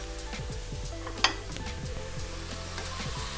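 Pork and tomato frying together in a pan for a Thai nam prik ong, giving a steady close sizzle with a stir and a single sharp clink of a utensil against the pan partway through.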